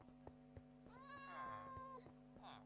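A kitten in Minecraft gives a short rising and falling meow, faint and brief, over quiet background music with light ticking sounds.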